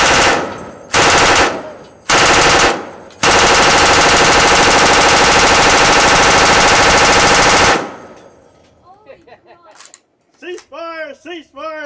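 Rifles fire on a firing line in dense rapid volleys, with several short bursts followed by a long sustained barrage that stops abruptly. Voices then speak in the quiet afterward.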